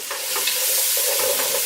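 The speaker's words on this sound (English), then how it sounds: "The bacon is just starting to get a little crispy." Bacon sizzles and crackles in a hot pot as the base for New England style clam chowder, a steady close frying hiss with soft stirring scrapes and no talking.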